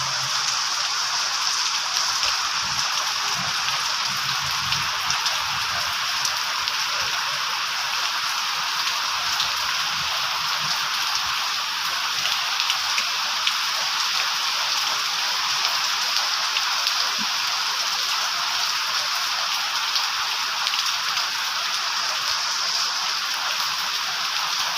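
Steady rain falling on a home vegetable garden in front of a house, an even, dense hiss of drops on leaves and surfaces that holds unchanged for the whole stretch with no voices.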